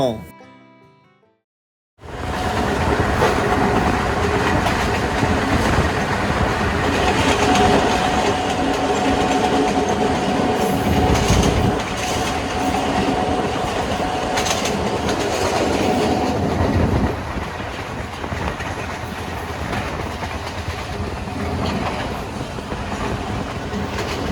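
A Dewanganj commuter train runs on rails from Mymensingh Junction toward Jamalpur, heard from the locomotive cab: after a short quiet start, a loud continuous rumble and wheel clatter carries on, easing slightly toward the end.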